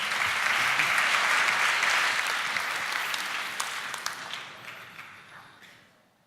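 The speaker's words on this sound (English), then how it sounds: "Give him a round of applause." Sustained applause from a crowd at a startup pitch event, loud and dense at first, then gradually thinning and fading out toward the end.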